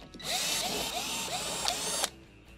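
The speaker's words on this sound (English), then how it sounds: "we're going to extract the 5 1/4 inch screws holding the panel in place." A power drill backs screws out of a refrigerator's back panel on an ice maker, whirring loud and steady for about two seconds with short pitch dips as each screw turns free, then stopping abruptly.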